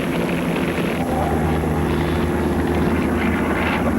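A loud, steady aircraft engine roars close by as the plane descends toward a runway, a continuous heavy drone with a constant whine and no talking.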